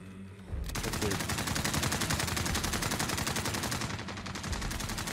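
Sustained automatic gunfire from Call of Duty: Modern Warfare Warzone, a dense rapid burst of shots filling nearly the whole stretch after a brief quiet start, loud and continuous.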